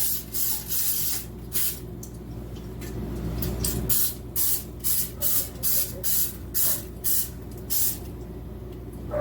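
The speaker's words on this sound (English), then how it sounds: "we're going to take our extra virgin olive oil spray and we're going to spray these right quick" A long hiss from an extra virgin olive oil spray can, then a quick series of about nine short, evenly spaced spray bursts, close and clear.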